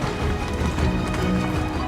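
Horse hooves gallop in a rapid clip-clop rhythm in the open-world game Where Winds Meet, close and steady, with no voice over them.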